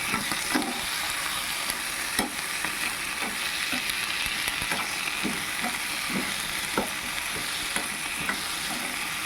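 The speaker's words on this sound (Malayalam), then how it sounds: "നന്നായി ഒന്ന് വാടണ വരെ ഒന്ന് ഇളക്കുക കേട്ടോ." Pickle ingredients sizzle steadily in a hot pan while a utensil scrapes and stirs in irregular strokes, close and continuous with no voices.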